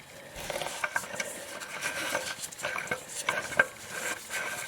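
An oil filter with an oiled rubber washer is turned by hand onto a 2006 Lexus IS350, making quiet, uneven rubbing and scraping sounds in short bursts.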